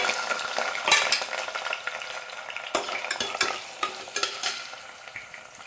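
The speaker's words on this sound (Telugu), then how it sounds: "ఆయిల్ వేడెక్కిందండి కరివేపాకు వేసుకున్నాం తర్వాత కరిగిన ఉల్లిపాయలు నాలుగు ఇలా పొడవుగా కట్ చేసుకోవాలి" Onions and curry leaves fry in hot oil in a pan, with a steady close sizzle broken by irregular scraping and clacking strokes of a spoon stirring them.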